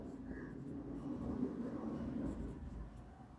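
A pen scratches across paper during an accounting lesson, a quiet continuous scribble at close range with faint room noise and no clear speech.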